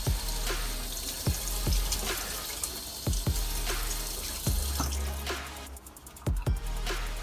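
Makeup brush rinsed under a running tap, steady water flow with repeated sharp splashes and drips as the bristles are worked under the stream.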